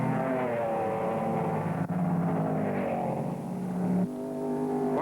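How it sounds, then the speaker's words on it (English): Porsche and Cobra sports racing cars at the 1963 Road America 500, a sustained engine drone with a slight pitch shift midway, moderately distant and steady over five seconds. "McDonald's got his eye on Sussler's Porsche just in front of him and continues his flat-out exhibition"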